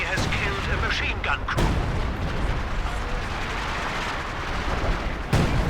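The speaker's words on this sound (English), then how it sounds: "I guess they have the artillery and they're shooting at my position" Artillery fire in the real-time strategy game Company of Heroes 2, a dense continuous barrage of booming blasts and explosions, loud and close, with someone talking over it.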